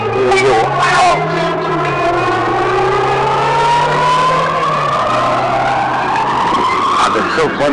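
A Polaris Slingshot drives close and loud, its engine note rising steadily through the gears, with tire and road roar beneath and a brief dip as it shifts.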